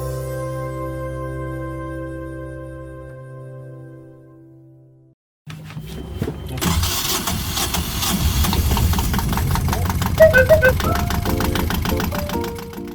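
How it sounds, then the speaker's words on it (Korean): Yanmar 2GM marine diesel engine on a yacht, with a sustained tonal hum that cuts out before a loud, steady running engine takes over with a rough, knocking rhythm; a voice talks over part of it. "저희 엔진은 얀마 2GM 마린 디젤 엔진입니다."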